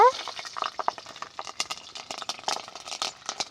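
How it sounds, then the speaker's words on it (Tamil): Green chilies crackle and spatter in hot oil that already holds fennel seeds, with quick irregular pops and sizzles at close range under a low kitchen hum. "இப்போ பச்சை மிளகா ஆட் பண்ணிக்கோங்க"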